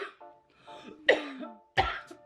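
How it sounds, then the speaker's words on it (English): Two or three short, throaty coughs come close up, with brief vocal sounds between them and silence around. "Gotta raise that pinky, gotta cough."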